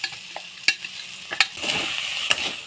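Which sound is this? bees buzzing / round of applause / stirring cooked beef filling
stirring cooked beef filling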